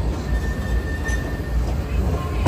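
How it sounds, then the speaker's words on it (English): A tram turns left onto the promenade in Blackpool on a sunny day. A steady rolling rumble carries a thin, high wheel squeal through the turn, and it is moderately loud against the street noise. "Tram here just turning left onto the promenade."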